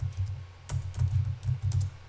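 Someone types C code on a computer keyboard, close and clear bursts of key clicks in quick uneven clusters over about two seconds, without talking.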